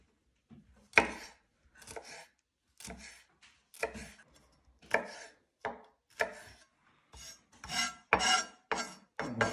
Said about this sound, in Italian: tagliamo un po' di peperoncino.